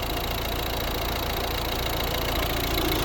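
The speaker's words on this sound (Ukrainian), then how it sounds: "Ну, ось робота двигуна." A 2011 Volvo V60 D2 diesel engine idles steadily up close, a constant rough mechanical rumble with a faint knocking texture and no voices.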